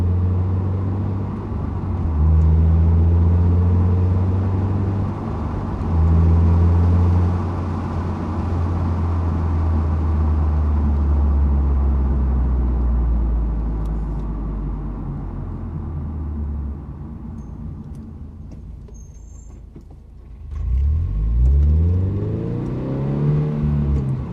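A Toyota GR86 with a Greddy Supreme SP exhaust pulls away with gentle low-RPM shifts around 3,000 RPM, its exhaust droning and rising and falling through several gear changes before easing off and revving again, close and steady.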